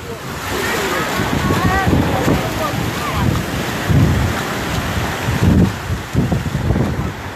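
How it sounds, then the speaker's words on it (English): Heavy wind buffets an outdoor microphone with rumbling, gusty roar that pulses throughout, loud and close, with a person talking faintly underneath. "So I apologize for the wind."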